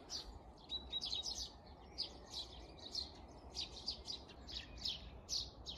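Wild birds chirp outdoors among spring plants, with quick, high twittering calls repeating in bursts over a soft, constant background rumble.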